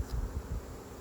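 Honey bees at a hive give a low steady buzz, close and continuous, rising and falling slightly, with no voices.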